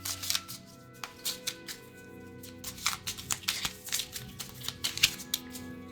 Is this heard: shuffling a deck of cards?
yes